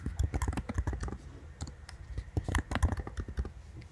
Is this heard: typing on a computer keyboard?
yes